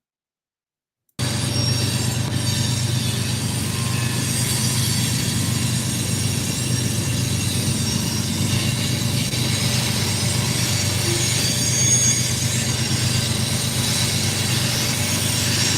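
A train rolling steadily past, loud and continuous throughout, with faint wheel squeal over a low rumble after a brief silent start; no one talks.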